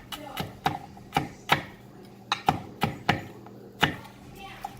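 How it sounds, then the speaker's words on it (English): A knife roughly chops garlic on a cutting board, giving about ten crisp, evenly spaced knocks with short gaps between them. The chopping is close and clear, with only faint kitchen background behind it. "now we're going to roughly chop the garlic"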